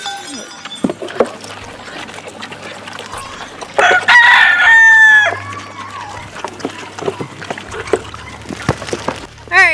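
Backyard chickens in a garden pen cluck and scratch nearby, and a rooster lets out one clear, loud crow in the middle, with outdoor ambience around them.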